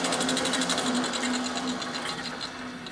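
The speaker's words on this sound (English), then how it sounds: "The coolant pump. You can do the coolant pump one more time to ensure it works. It's the motor of the coolant unit." The coolant pump motor on an EWAG RS2 radius and tangent grinder runs steadily, a continuous mechanical hum with a rapid rhythmic chatter layered on top, close and even in level throughout.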